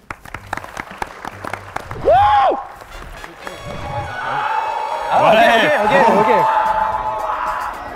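Applause from an audience of about thirty people, rising in bursts with cheers and whoops, mixed with voices and laughter over the clapping.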